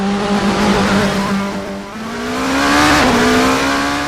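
A high-pitched Vanwall hypercar engine in the racing game Assetto Corsa drones at sustained speed, dipping and rising as it shifts, loud and steady like an onboard race car.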